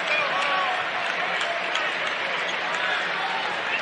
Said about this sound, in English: all standing and clapping for this Boilermakers team